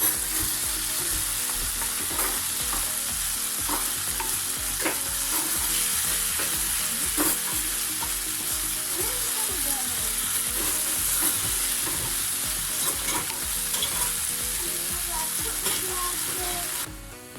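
Squid chilli fry sizzling steadily in a hot pan, a dense continuous crackle with occasional stirring scrapes, close and loud throughout with no talking.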